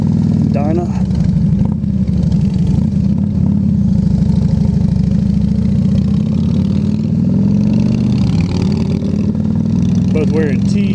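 A 2009 Harley-Davidson Dyna motorcycle engine runs loud and close with a steady low rumble throughout, mixing with wind noise and a person talking over it.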